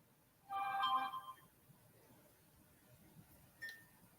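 A phone notification plays a short bright chime near the start, then a fainter second tone follows a few seconds later against quiet room noise.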